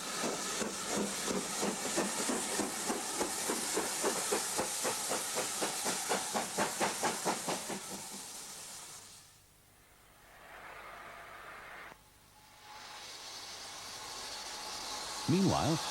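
Preserved steam locomotive 5459 on the Llangollen heritage line in Wales gives a loud, rhythmic hissing exhaust that chuffs in regular pulses, then breaks into bursts of steam separated by brief quiet gaps, close by.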